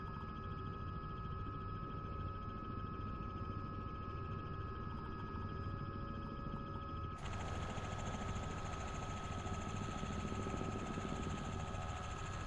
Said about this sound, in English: it's a cool sounding helicopter too